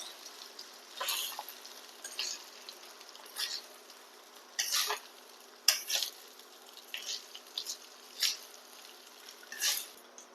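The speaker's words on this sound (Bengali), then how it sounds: "এবার আলতো হাতে এটাকে নাড়াচাড়া করে নেব।" Rice tossed with spice masala in a pan, stirred gently, giving soft intermittent scraping and light sizzling strokes at a fairly quiet level, with no voices.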